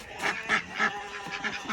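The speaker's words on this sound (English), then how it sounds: "And the ducks and the guineas." Ducks and guinea fowl calling outdoors after a snowstorm, a run of loud honking, squawking cries in bursts about every quarter second, close by with no talk.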